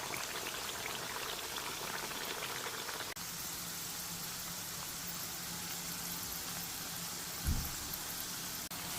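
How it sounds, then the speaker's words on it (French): Chicken pieces with olives frying in a pan over medium-high heat, giving a faint, steady crackle and hiss throughout with a brief soft bump near the end. "à feu moyennement fort, on va laisser ça gentiment frire"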